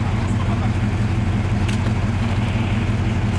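Soviet military off-road truck stuck in terrain, its engine revving hard and loud in a steady, heavy low rumble with a throbbing pulse, close by, while a person talks over it.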